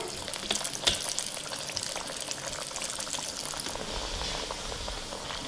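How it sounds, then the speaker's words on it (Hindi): Puris frying in oil on a low to medium flame, a soft, continuous bubbling sizzle with faint crackle, steady throughout and moderately quiet. "लो टू मीडियम फ्लेम पे हम बाकी की पूरियों को फ्राई कर लेते हैं"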